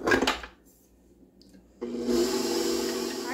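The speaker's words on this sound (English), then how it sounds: "I'm going to beat a stick of unsalted butter that's been softened, set down at room temperature." An electric mixer beats a stick of softened unsalted butter, a steady loud whirring that starts after a brief clatter and near-quiet pause, then runs continuously close by.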